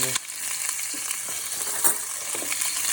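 Pieces of beef for a pot roast sear and sizzle in a hot pan, a constant crackling fry with a few scraping stirs and utensil touches, close and fairly quiet, no talking.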